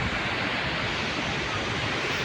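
Powerful, continuous roar of water rushing out of Mettur Dam in Salem, a broad steady wash of noise like a heavy torrent pouring nearby.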